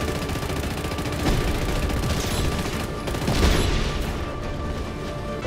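Gunfire in the video game Just Cause 3: dense, continuous rattling bursts and crackling shots over a loud mechanical, rumbling game backdrop, with swells in intensity and no speech.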